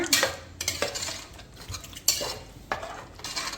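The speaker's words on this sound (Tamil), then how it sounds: "இந்த எலும்பு அதை அப்படியே அதுக்குள்ளே சேர்த்துக்கலாம் சேர்த்து நல்லா கிளறி விட்டுருங்க" A spoon stirs boiled mutton bones into curry in a cooker pot, making close metallic scrapes and clinks in a few bursts with a soft bubbling sizzle between them. No speech.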